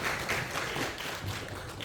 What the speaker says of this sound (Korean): 이때 박수 쳐주던데